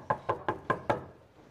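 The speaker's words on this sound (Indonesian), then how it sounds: "Tim yang mengetuk, namun tidak ada jawaban." Five sharp, evenly spaced knocks on a hotel room door, close and clear, followed by quiet with no answer.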